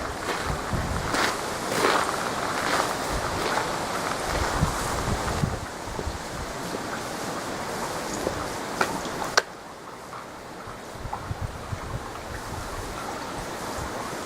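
Gusting wind outdoors in Shimagahara, a mountain village in Mie Prefecture, Japan, with light snow beginning to fall, makes a broad rushing buffet against the microphone. It surges and eases throughout, with a few soft knocks and a quieter stretch after a sudden drop. No one speaks.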